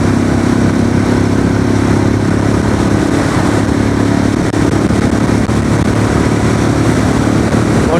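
A Royal Enfield Classic 350 BS6 motorcycle in fifth gear pulls hard at speed, its engine drone continuous and loud under heavy wind rush throughout.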